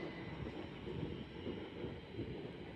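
A Pendolino train running into platform 6 at Watford Junction, a faint continuous rumble and rolling clatter heard from the platform, with no voices.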